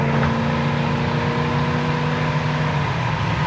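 A 1977 Chevy Camaro engine hums steadily with a sustained tonal drone as the car drives along, shifted manually through the gears, the pitch holding fairly even throughout.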